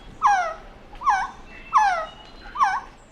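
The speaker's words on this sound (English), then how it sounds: "So here's the sound of a resplendent quetzal." Resplendent quetzal calls: four clear, loud whistled notes, each a sliding, harmonic-rich call spaced about three-quarters of a second apart, heard alone without talk.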